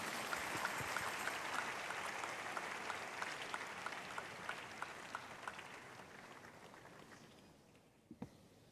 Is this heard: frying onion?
no